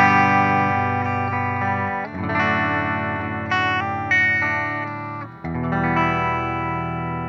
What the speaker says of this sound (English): here is the Fender Deluxe Reverb.